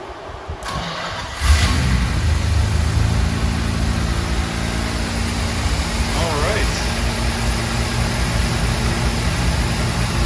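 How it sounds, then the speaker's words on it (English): Rebuilt Jaguar E-Type V12 with new carbs, distributor and coil cranks and fires up, then settles into a loud, steady idle with a brief rev, recorded close. "now we finally get to start the car up"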